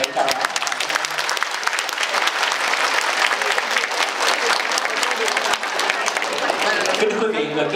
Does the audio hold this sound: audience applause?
yes